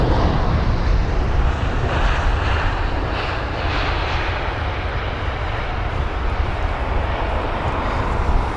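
A steady, loud engine roar from an aircraft arriving at London Heathrow fills the whole stretch without a break.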